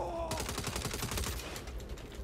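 Rapid automatic gunfire in Saints Row rattles steadily in quick repeated shots, fairly loud and close, with no break across the stretch.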